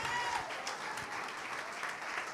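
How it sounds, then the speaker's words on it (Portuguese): Church congregation applauding during a Portuguese-language service, a steady, moderately quiet patter of many hands clapping at once, with no clear speech over it. "Vamos aplaudir mais, vamos aplaudir mais."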